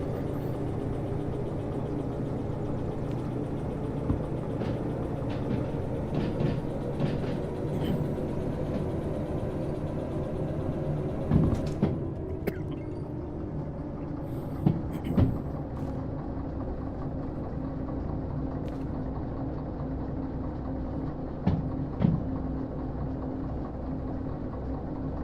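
A train in the VR railway game Derail Valley rumbles along steadily at low speed with a continuous engine drone, broken by a few clanks and knocks along the way.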